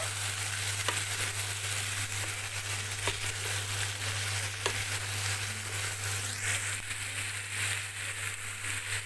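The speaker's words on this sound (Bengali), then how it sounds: "এবারে দিয়ে দিলাম জিরে গুঁড়ো একটুখানি ওপর নিচ করবো" Pumpkin curry with cumin powder frying in a pan and being stirred, a steady close sizzle with faint scraping stir sounds and a constant low hum beneath, no talking.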